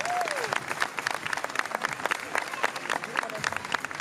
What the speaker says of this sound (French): on va aller couper la ligne avec les applaudissements du public